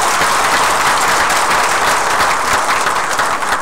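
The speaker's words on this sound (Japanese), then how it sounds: "もう一度大きな拍手をお願い" An audience applauds high school students at a community presentation event in Kumano town, Japan, with dense, sustained clapping that stays even and full throughout.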